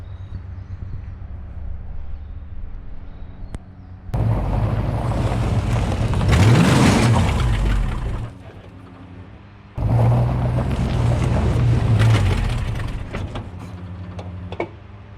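Gambler car engine revving hard while failing to break into a burnout, a loud, rough mechanical roar that surges twice, with a fluid-leaking, worn-out drivetrain, strained whine rising mid-clip and idling lower between bursts.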